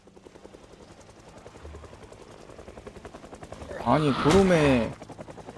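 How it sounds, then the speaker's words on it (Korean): Helicopter in the video game Project Zomboid, a steady rhythmic rotor chop pulsing throughout, growing louder toward the end as if passing overhead, with a voice speaking briefly over it. "헬기는 왜 자꾸 여기서 기웃거리는 것이죠?"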